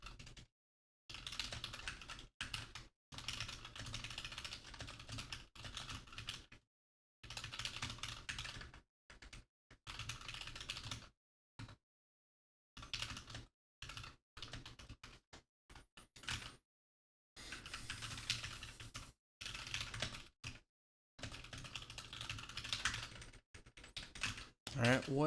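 Bursts of fast typing on a computer keyboard during a C++ coding session, close and clattery, broken by short pauses, with occasional quiet talk.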